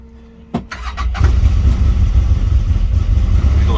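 A CFMOTO CFORCE U1000 side-by-side cranks briefly and fires up, its engine catching with a sharp burst and then settling into a loud, steady low idle close by.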